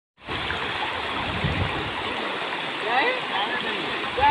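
Drain water from a nearby drain flowing across a city road, a steady broad rushing wash that stays loud and continuous throughout, with faint voices in the background.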